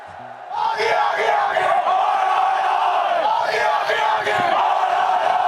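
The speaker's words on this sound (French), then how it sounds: "Une foule tout entière participe soudain à ce cri et à la réponse" A packed stadium crowd roars a call-and-response chant in unison, a loud, dense wall of voices that stays sustained and swells slightly through the clip.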